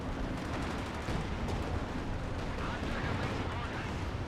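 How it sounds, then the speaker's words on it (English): Katyusha rocket artillery fires in a 4v4 video game battle, a dense, continuous roaring barrage of blasts that stays loud and unbroken throughout. "Katusha firing point blank"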